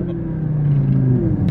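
An Audi R8 engine accelerates on a wet road, giving a close, steady rumble with a low tone that rises and falls slightly, and no talking over it.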